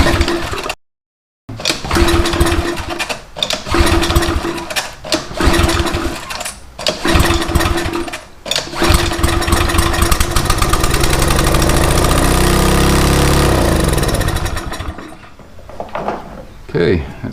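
A small pressure washer engine is cranked with a few uneven pulls, catches and settles into a loud, close, steady idle with a rough rumble.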